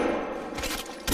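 Gunfire in a mobile battle royale game on Android, short crackling bursts of shots with a louder burst at the end, set against a steady game soundscape.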